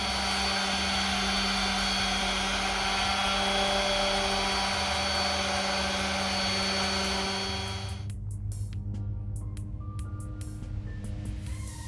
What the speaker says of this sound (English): I'm about to use the compound to polish them right now